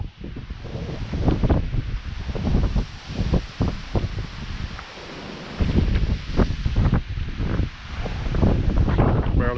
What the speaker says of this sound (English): Barely keep my balance from that wind.